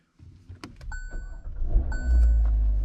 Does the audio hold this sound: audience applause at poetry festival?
no